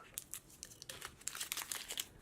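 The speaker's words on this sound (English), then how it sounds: "I'm just going to crumple this one up." A Halloween candy wrapper is crumpled by hand, a quiet, close series of crisp crinkling crackles in irregular bursts, with no talking.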